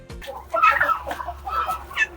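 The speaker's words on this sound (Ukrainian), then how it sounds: "А думаєш, щось так луплять крилами б'ються." A rooster and a turkey squabble in a farmyard, with loud clucking and fowl calls in short bursts over about two seconds, with some scuffling.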